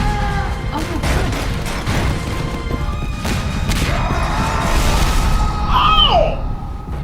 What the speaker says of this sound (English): It blew Heavy up